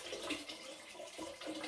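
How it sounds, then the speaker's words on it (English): Cold tap water pours into a pot while black-eyed peas are being prepared for canning, a steady, fairly faint rushing stream with slight shifts in tone as the pour continues. "Add a little bit of cold water."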